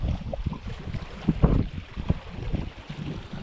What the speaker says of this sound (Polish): Ale wiatr też się zerwał